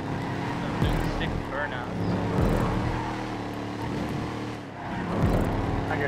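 Several cars rev and do burnouts in the video game GTA Online on PC. Engines rise and fall and tires squeal over game music while players chatter throughout.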